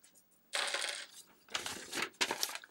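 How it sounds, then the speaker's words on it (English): Small metal screws and standoffs rattle and clink as they are poured and handled from a bag, coming in three short bursts of bright jingling, fairly close, with quiet pauses between. "There's a bag of screws and standoffs."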